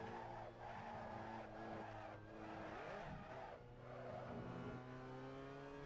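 A race car in Assetto Corsa spins out, its tires squealing and skidding in long wavering tones over a steady engine drone, fairly quiet and with no talking.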